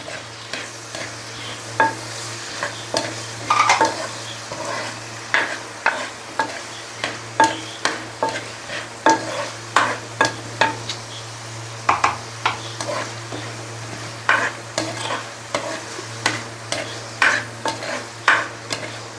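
Tomatoes sautéing in a pan, a quiet sizzle over a steady low hum, punctuated by repeated loud, rhythmic spoon strokes and scrapes against the pan.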